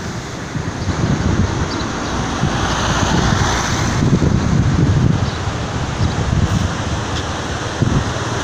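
Rushing water of the Ipanema river running high after heavy flow, with a waterfall in view, makes a steady broadband roar, joined by wind buffeting the microphone throughout.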